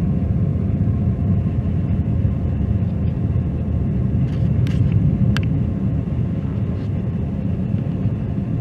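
Deep, steady rumble of a SpaceX Starlink rocket launch climbing through supersonic flight, heard from afar as a continuous low roar that holds level throughout, with a few faint higher sounds briefly above it.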